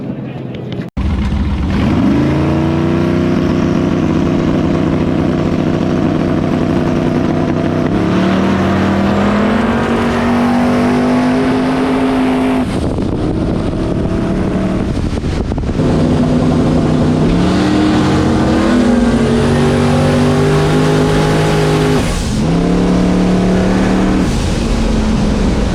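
Street race car engine in a Pinks race, revving hard through gear changes with a steady loud roar, pitch climbing then dropping at each shift, close by throughout.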